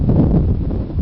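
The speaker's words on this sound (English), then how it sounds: "Unbelievably windy conditions." Loud, rumbling wind buffeting the microphone at a powerboat race, a dense continuous roar with no speech over it.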